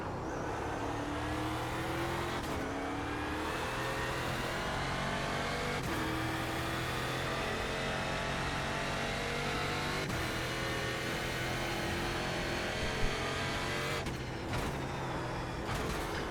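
Loud, continuous engine roar of racing cars in the iRacing video game, revving up and down with gear shifts as several cars run close together, no voices.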